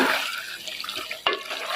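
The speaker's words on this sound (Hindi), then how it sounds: "ये अब हम इसमें थोड़ा सा पानी ऐड कर रहे हैं।" Water poured into a chicken and tinda curry in a home kitchen, a short splashing pour that fades, then a second splash after a brief pause.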